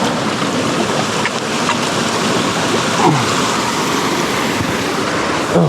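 Rushing creek water roars loud and steady at a mountain stream crossing, a dense continuous churn with no voices over it.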